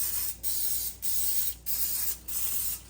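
Cooking spray misted into a metal muffin tin: four short, even hissing bursts in a steady rhythm, close and loud, separated by brief pauses.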